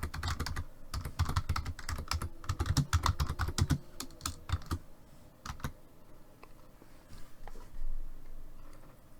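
Rapid typing on a computer keyboard, a dense run of close key clicks that thins into scattered taps and pauses, no talking over it.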